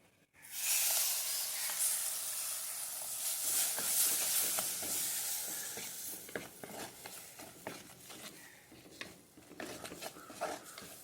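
Ground tomato and onion paste hisses and sizzles loudly after being poured into a hot pan for fish curry, a dense steady sizzle that gradually thins into softer crackles and stirring scrapes.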